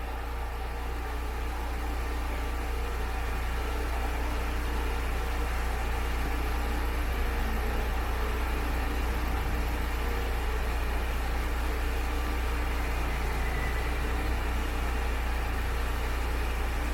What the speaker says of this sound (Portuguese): Armou o eletroventilador com 100 graus.